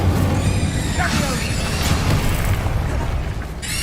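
Incendio fire spell cast in Hogwarts Legacy, a loud roaring burst of flame with a crackling whoosh that holds steady for a few seconds, thick and close, with a faint tail as it fades.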